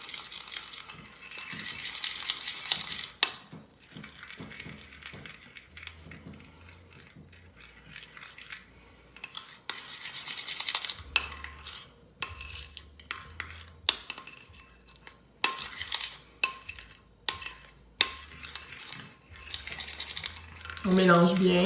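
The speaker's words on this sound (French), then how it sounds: "on recommence à mélanger." A spoon stirs a thick chocolate face mask mixture in a bowl, giving irregular clinks and scrapes against the bowl in uneven bursts, fairly close, with quiet pauses between strokes.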